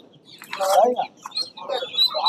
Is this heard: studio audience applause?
no